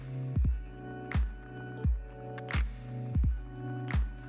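Half a lemon squeezed by hand over a pan of pasta with roasted grapes and halloumi: a series of soft, wet squishes and drips in an uneven rhythm over a low kitchen hum.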